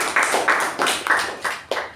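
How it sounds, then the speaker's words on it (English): A club meeting audience gives a round of applause, a short burst of clapping with loose rhythmic claps close by, no speech over it. "A big round of applause to him."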